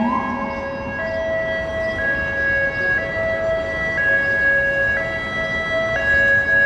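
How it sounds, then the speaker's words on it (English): An ambulance siren wails on a Midtown Manhattan street, alternating between two pitches in a steady high-low pattern about once a second, carrying loud and sustained over a wash of city traffic noise. "This ambulance siren, you can hear it for blocks and blocks."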